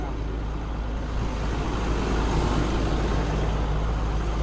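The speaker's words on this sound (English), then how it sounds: "let's idle up the engine now" A 2002 International Hi-Ranger XT60/70 forestry bucket truck's engine runs at a raised idle, a dense, steady diesel rumble close by with a faint murmur of talk beneath it.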